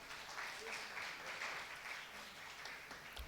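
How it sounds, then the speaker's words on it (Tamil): Students at a Tamil literary festival workshop give steady applause, a continuous wash of many hands clapping at moderate volume, heard at some distance. "கைதட்டுங்கள்"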